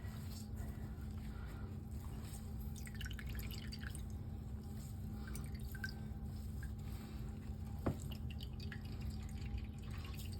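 Thawed frozen spinach being squeezed by hand, with water dripping in a scattered, irregular patter over a steady background hum, faint and close.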